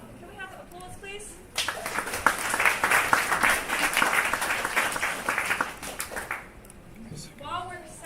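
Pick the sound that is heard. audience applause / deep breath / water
audience applause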